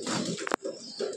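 Pigeons cooing at a seller's home loft, a soft low murmur running through most of the moment with a brief flutter near the middle, moderately close and fairly quiet.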